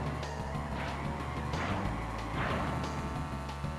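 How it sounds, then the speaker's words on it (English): A kart engine in a racing video game roars steadily during an Ultra Sacred Fire boost on Turbo Track, a dense, loud, continuous drone with tire-skid hiss over it. "That's an Ultra Sacred Fire. You can hear the difference in the engine."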